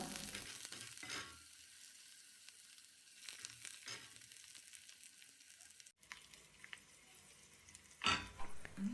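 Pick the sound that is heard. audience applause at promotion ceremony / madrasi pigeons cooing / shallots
shallots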